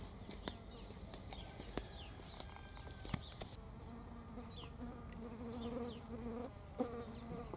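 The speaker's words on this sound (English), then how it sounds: "There's a beautiful bee." A bee hovering around a flowering pigface bush-tucker plant gives a quiet, steady buzz over a faint outdoor background, with a few brief clicks and knocks scattered through it.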